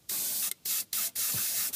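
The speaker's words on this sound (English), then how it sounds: "Having to be really careful not to overspray because it is prone to doing that because it's quite a powerful spray" Aerosol spray paint applied to a Revell Colonial Viper plastic model kit, four short bursts of hissing spray separated by brief pauses, close and loud.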